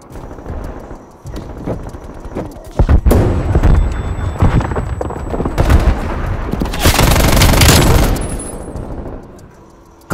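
Rapid sniper rifle fire rings out in a Call of Duty: Black Ops Cold War match, loud repeated shots and bursts with dense battle noise filling most of the stretch.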